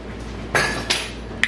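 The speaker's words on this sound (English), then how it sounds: "Sorry if you guys can hear my dishwasher in the background." A dishwasher runs in the background as a steady low hum, with a few faint dish clinks and clatters rising from it.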